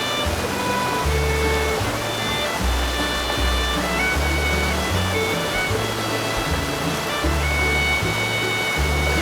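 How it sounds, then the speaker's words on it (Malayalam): Erattumukku waterfall at Thusharagiri in Kozhikode pours as a continuous, dense broadband roar of falling water that holds steady without a break. "ഇതിപ്പോൾ ഇരാറ്റുമുക്ക് വെള്ളച്ചാട്ടം ആണ്"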